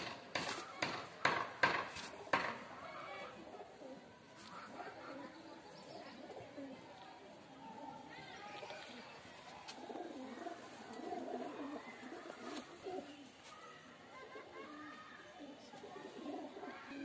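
Andhra pigeons cooing in a pair, low soft coos that repeat through the clip over a few sharp clinks at the start. Someone talks over them and is heard now and then.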